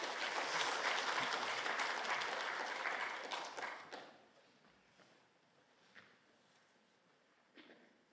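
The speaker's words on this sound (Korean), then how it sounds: "박수로 한번 맞이하겠습니다." A church congregation at a Korean Sunday worship service applauds to welcome a speaker giving a baptism testimony. Loud, dense clapping fades away after several seconds into a quiet hall with a few faint knocks.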